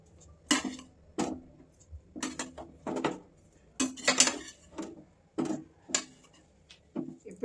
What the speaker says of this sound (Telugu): ఇప్పుడు ఈ డ్రై ఫ్రూట్స్ అన్నీ వేసేస్తున్నాండి.